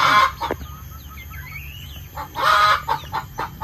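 Crossbred chickens clucking and calling at close range in a backyard flock, bursts of loud squawks and clucks with quieter chirps between, no speech.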